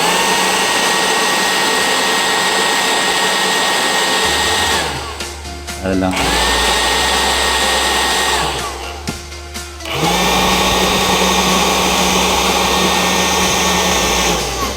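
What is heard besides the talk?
improvised blower blowing air into engine part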